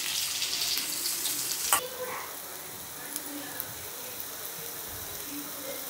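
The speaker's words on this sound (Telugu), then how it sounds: "సిమ్ మీద పెట్టుకొని వేయించుకోవాలి." Bitter gourd frying gently in oil over a low flame with onion and chili powder, a soft steady sizzle with a sharp clack near the start and a few faint scrapes afterward.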